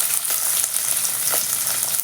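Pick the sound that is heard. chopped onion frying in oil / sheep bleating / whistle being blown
chopped onion frying in oil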